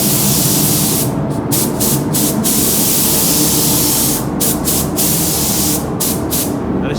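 Spray paint hissing from an aerosol can, laying a quick dust coat onto a Traxxas Maxx RC car shell, in several steady close bursts separated by brief pauses.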